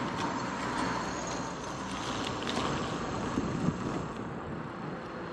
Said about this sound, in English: nice and windy also, so you get knocked off the wheel